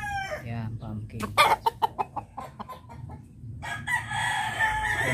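Young stag rooster crowing and clucking nearby in a series of sharp repeated calls, with a person talking softly over the bird.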